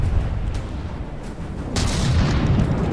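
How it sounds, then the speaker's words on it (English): Missile barrage explosions from a space battle in the video game From the Depths make a dense, continuous rumble of booms that swells louder partway through. "Another missile barrage."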